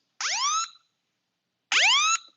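An Apple Watch emergency SOS alarm sounds twice, each a short rising electronic siren-like whoop with bright harmonics, clear and close, separated by a silent pause.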